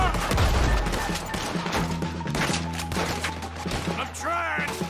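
Gunfire crackles in a Red Dead Redemption 2 wagon shootout, rapid overlapping shots and sharp cracks mixed with crashes, a brief voice and a low rumble under the clatter.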